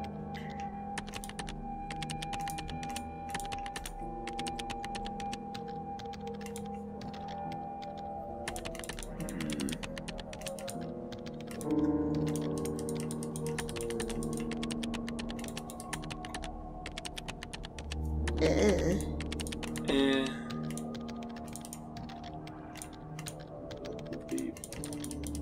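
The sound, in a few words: clicking a computer keyboard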